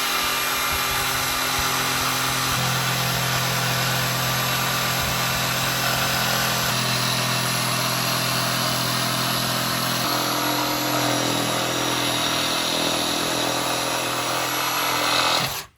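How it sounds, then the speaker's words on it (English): A jigsaw with a Bosch T141HM1 blade whines steadily and loudly, cutting through fiber cement board without pause, with a gritty buzzing tone that holds for the whole stretch. "You can get it done with a jigsaw."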